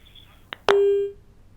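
A telephone busy tone sounds after a caller's line drops during a live call-in program, a single steady electronic beep preceded by a brief click, clear and close.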